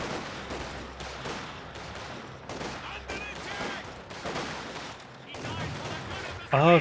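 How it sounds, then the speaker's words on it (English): Mortar rounds and explosions in the Company of Heroes 2 real-time strategy game, a dense run of thumping blasts and crackling gunfire under continuous commentary talk, ending in a louder burst. "This mortar could be quite deadly, but he has moved out of the radius."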